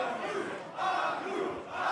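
Wrestling crowd at a live match shouting and jeering against wrestler Kaplan, a loud roaring mass of voices that surges in waves across the moment.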